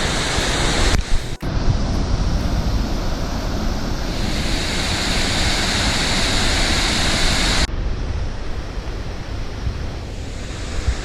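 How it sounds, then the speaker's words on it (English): Waterfalls at Christie Falls after heavy rain pour in a steady, loud, broadband roar that shifts in intensity over several seconds, with wind buffeting the microphone and no voices. "3 huge waterfalls there."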